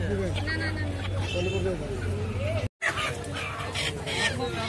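Desi (local country) chickens cluck and crow amid a busy village market crowd of chattering voices, with a steady low hum and brief break in the middle.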